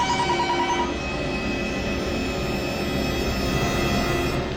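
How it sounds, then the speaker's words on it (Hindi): A telephone rings steadily over a constant background hum, the electronic ring repeating without pause and no voices heard. "निकी का फोन होगा।"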